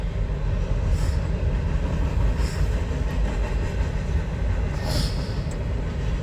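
A Union Pacific train rolls past nearby with a steady, continuous rumble and rail noise throughout, loud and unbroken, with faint higher hiss bursts now and then.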